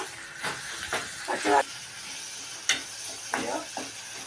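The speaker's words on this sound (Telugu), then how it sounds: "ఇప్పుడైతే అన్నం కలుపుతున్నా" Rice is mixed with ginger in a frying pan. A moderate sizzle runs under a series of short stirring scrapes and pan knocks, and brief voice sounds come through at moments.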